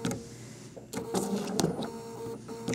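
Domestic sewing machine stitching very slowly around the narrow points of eyes and mouths on a fabric piece, with short mechanical whirring bursts and clicks separated by brief pauses. The sound is close and moderately quiet, with no voices.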